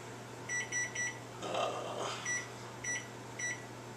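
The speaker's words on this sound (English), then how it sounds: "put them in the microwave," A microwave oven holding garlic cloves hums quietly with a low steady tone, while a series of bright electronic beeps sound in short groups of three, with a brief whooshing rustle between them.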